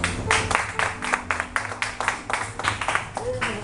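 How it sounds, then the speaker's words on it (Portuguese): Church congregation applauding for Jesus, a series of sharp, rhythmic clap bursts from many hands with voices and a low tone continuing underneath, near and moderately loud. "Bata uma salva de palmas para o Senhor Jesus."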